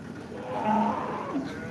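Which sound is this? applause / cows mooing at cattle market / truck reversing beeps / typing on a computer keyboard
cows mooing at cattle market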